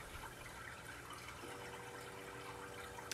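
Soft trickling water and a faint steady hum from a Neptune DOS dosing pump moving fresh salt water in a saltwater aquarium, quiet and continuous without voices.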